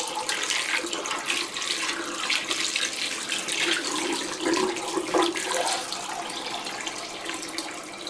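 Water runs steadily from a bathroom tap while light fixture parts are rinsed. It makes a continuous hissing splash with small shifts in the flow.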